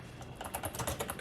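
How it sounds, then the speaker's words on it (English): Quick typing on a computer keyboard, a close run of light, irregular key clicks that pick up pace toward the end, with no talk. "Let's try to type in something like make it more"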